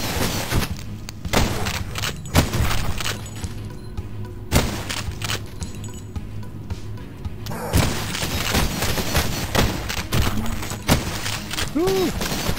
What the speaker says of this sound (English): This rifle does work.